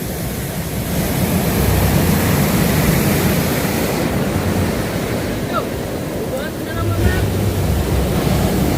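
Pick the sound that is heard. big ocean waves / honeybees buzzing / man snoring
big ocean waves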